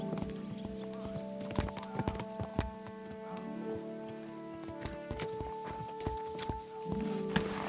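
Horse hooves clip-clop in a steady walking rhythm in Kingdom Come: Deliverance II, fairly close, over a continuous humming tone with occasional faint background sounds.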